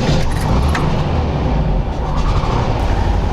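An old van nicknamed le Duc idles after starting, a steady low rumbling engine close by with a broad noisy hiss over it and no talk.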